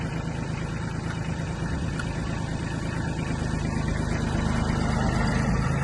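A Kubota NB21 Japanese mini tractor engine running steadily as it drives forward and back, a loud, constant mid-pitched mechanical drone close to the microphone.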